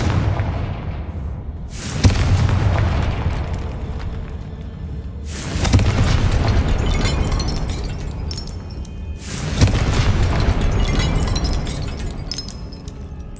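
Three broadband blasts from the Confringo spell in Hogwarts Legacy burst out roughly every four seconds, each a sharp crack swelling into a rumbling, crackling roar over steady low game ambience.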